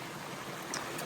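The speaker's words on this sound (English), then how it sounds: "nice little babbling brook. A few little cascades here and there." Small babbling brook with little cascades running through a huckleberry-covered hiking trail, a steady broad wash of flowing water that stays even and close throughout, with no voices.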